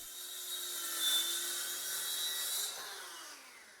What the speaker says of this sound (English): just to take the full sheet and start ripping out the cleats